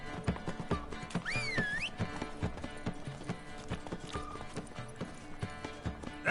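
Horse hooves clop along at a walking pace in The Witcher 3, a steady rhythm of close thuds mixed with game music and a brief whinny-like whistle.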